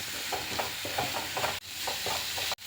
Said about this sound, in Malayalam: ഇഞ്ചി കൊടുത്തുള്ളി പേസ്റ്റ് ഇട്ട് കൊടുത്ത് പച്ചമണം മണം വരെ ഒന്ന് വഴറ്റി കൊടുക്കണം